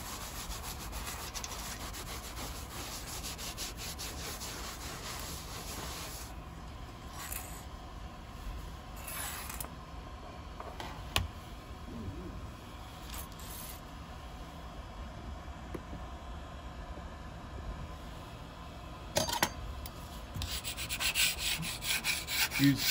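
Faint, steady scrubbing rubs across a Creality Ender 3 printer bed plate, with a few sharper scraping strokes partway through and toward the end, and no voices.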